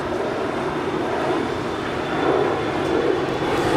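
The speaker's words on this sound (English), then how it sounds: "Here we have Alaska SkyWest Flight 3373 departing to Santa Rosa. It's a 5-year-old Embraer E175LR." A five-year-old Alaska SkyWest Embraer E175LR jet departing Los Angeles International makes a dense, steady engine roar, fairly close and loud, swelling slightly toward the end with a faint high whine on top.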